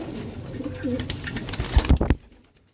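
Pigeons in a steel-matting loft coo softly for about two seconds, low rolling calls close by, followed by a few fluttering thumps and a quick fade to quiet.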